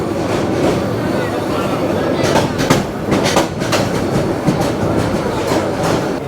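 The Sonar Bangla Express rolls into Dhaka Airport railway station with a loud, steady rumble, its wheels clattering over rail joints in repeated bursts and the cars rattling throughout.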